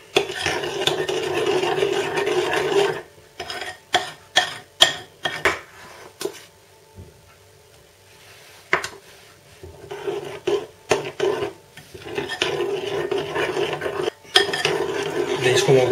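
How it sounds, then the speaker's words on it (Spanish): Flour being stirred into cupcake batter in a bowl, with a spoon or whisk scraping and clinking against the sides in quick bursts, broken by brief pauses and a quieter stretch, close and fairly loud. "Ahora iremos añadiendo harina poco a poco e iremos mezclándola"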